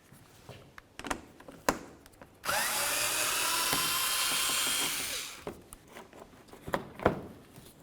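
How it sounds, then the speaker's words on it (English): Close by, a power drill whirs steadily for about three seconds while removing the bumper panel mounting bolts on a 2006-2012 Ford Fusion, then winds down, with scattered clicks and taps of handling before and after. "We essentially just want to take out the mounting bolts for it, so we can go ahead and pull it away."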